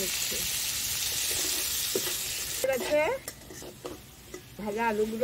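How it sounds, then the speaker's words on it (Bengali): Potatoes fry in hot oil in a kadai, a close, bright sizzle running throughout with stirring clatter, while a voice briefly sounds in the second half. "আলুগুলো ভেজে নিচ্ছি।"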